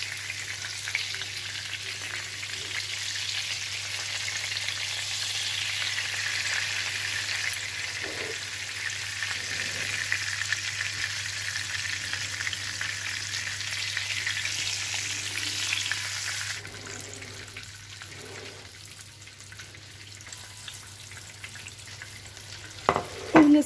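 Sardines frying in oil in a pan, a steady loud sizzle with crackling that continues throughout, easing somewhat in the last few seconds as occasional stirring or handling knocks come through.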